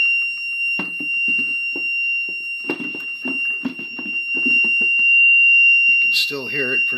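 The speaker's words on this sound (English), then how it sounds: "And I'll just go through some frequencies here to see that it's amplified." A test tone rings steadily through a battery case fitted with amplifying technology. Near the end it jumps to a higher, louder pitch as the sweep moves on, while someone talks over it.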